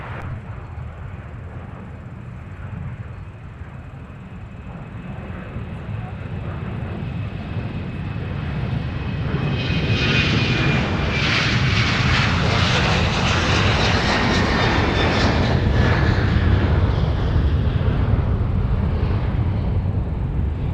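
Delta Boeing 737 jet taking off, a broad engine roar that builds steadily from a distant rumble to a loud, sustained whine and rush as it rolls down the runway, with no talking.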